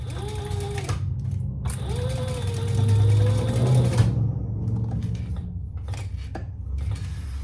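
Sewing machine top stitching a leather wallet, running in steady mechanical bursts with a short pause, then a longer stretch that swells louder before it stops and faint clicks follow.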